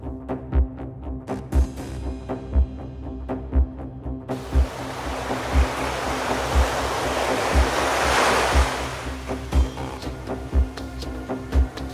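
Rough water rushing over rocks as a sound effect in a Thomas & Friends toy train scene, a swelling roar of surf-like noise building and fading over a steady rhythmic thumping beat.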